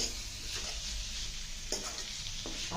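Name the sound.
gongura masala with jackfruit seeds frying in a pan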